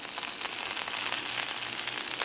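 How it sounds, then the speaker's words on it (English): Steady, bright sizzling of golden and red beets frying in a hot pan, constant and close with no talking. "Listen to the sizzle."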